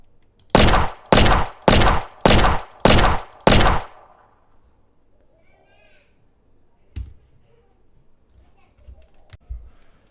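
A Glock handgun fires in an Unreal Engine 5 first-person shooter game: six loud, evenly spaced shots in quick succession, followed by near silence with a few faint clicks.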